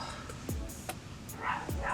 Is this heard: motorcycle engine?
no